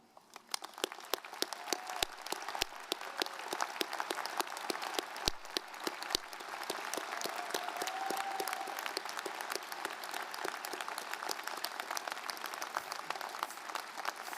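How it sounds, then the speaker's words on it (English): An audience at a university general commencement applauds faculty award winners, a sustained, dense wash of clapping from a large crowd, with a few sharper individual claps standing out. "will you please join me in applauding them?"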